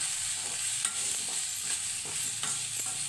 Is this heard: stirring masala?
yes